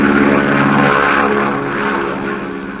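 A Lockheed Constellation propeller airliner arrives at an airport, its engines making a loud, steady droning roar close by that eases slightly toward the end.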